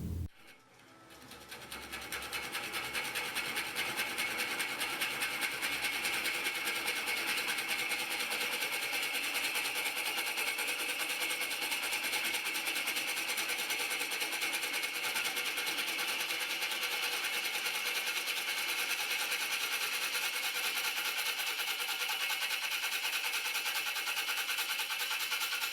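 A wood lathe spins slowly while turning an off-center spoon on end grain, giving a steady, even mechanical hum and whir that rises to speed in the first seconds and then runs unchanged and fairly loud with no talk.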